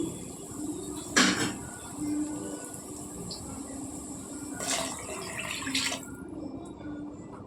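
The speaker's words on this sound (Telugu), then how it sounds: "ఇప్పుడు నీళ్ళు వేసుకోవాలండి." Water splashes and pours in a few short bursts into a pan of fried carrots for upma, with a steady background hiss between them and no talking.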